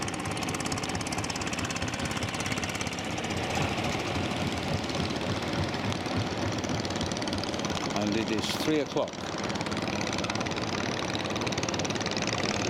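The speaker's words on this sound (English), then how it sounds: "Let me switch that engine up, it's really quiet." Boat engine chugging steadily on Inle Lake, a continuous loud mechanical drone throughout, briefly dipping near the end, with a voice speaking over it.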